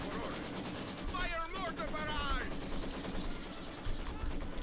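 Rapid bursts of gunfire from a Company of Heroes 2 multiplayer battle crackle continuously with loud clustered shots, mixed with other battle sounds and overlapping with talk from players.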